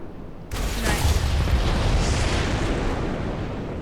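A gun from the Minecraft Tech Guns mod sets off a sudden loud explosion, a sharp onset followed by a broad roaring rumble that slowly fades over a few seconds, with no voices.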